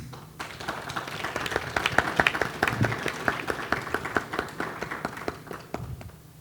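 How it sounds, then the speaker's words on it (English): At a Jamaican diaspora meet-and-greet, a modest crowd claps after a sister city agreement signing, with distinct individual claps in an uneven, moderately paced rhythm lasting several seconds, close and fairly loud. "You all better clap yourselves again."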